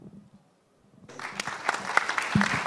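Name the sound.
audience applause closing a conference talk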